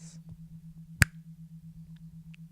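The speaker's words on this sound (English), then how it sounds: "every time I snap my fingers, you were to go twice as deep into trance" One crisp, sharp finger snap rings out near the middle over a faint steady hum, otherwise quiet.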